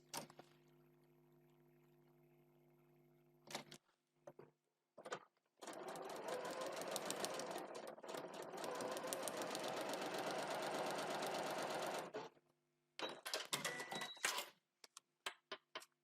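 A sewing machine stitches through the seam allowance of a tiny foundation paper pieced heart, with a few short starts, then one long steady run of several seconds, followed by quick bursts, close and clear with no talk.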